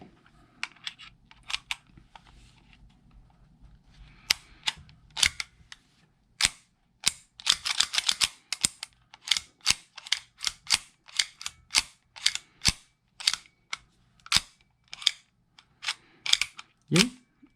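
An ASG CZ Shadow 2 airsoft pistol fitted with a Nexxspeed hop-up fires a long string of sharp, snappy shots, some spaced out and others in quick clusters, with near, crisp clicks over a quiet background.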